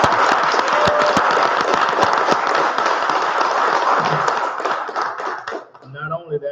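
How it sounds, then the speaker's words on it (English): A board meeting audience applauds a valedictorian, with dense sustained clapping and a few sharp claps standing out, fading near the end as a voice begins to speak. "that deserves a round of applause"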